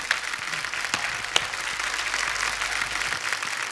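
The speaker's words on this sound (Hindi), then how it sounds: "एक बार जोरदार तालियां हमारे सभी कंटेस्टेंट्स के लिए और हमारे जजेस के लिए" Studio audience applause for contestants and judges on a Hindi TV comedy show with Indian Idol guests, a steady dense clapping wash lasting several seconds with no voices over it.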